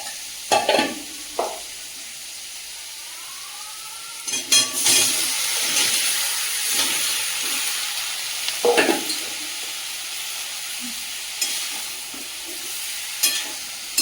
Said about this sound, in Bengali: এদিকে ভেন্ডি দিয়ে চিংড়ি ছোট কড়াইতে করে বসিয়ে দিয়েছি।